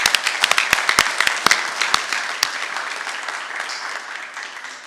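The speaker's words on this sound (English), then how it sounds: "One more round of applause, ladies and gentlemen" Audience applause at a school board meeting, starting with sharp, scattered individual claps that blend into a fading wash of clapping from a modest crowd.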